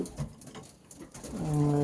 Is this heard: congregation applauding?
no